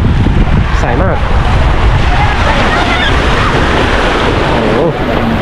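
Sea waves wash and churn along the shore at Koh Larn island, a loud, continuous rushing with wind buffeting the microphone up close.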